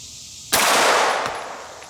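A single loud 9mm pistol shot firing a Hornady 115gr XTP handload, sharp and close, with a short ringing decay afterward.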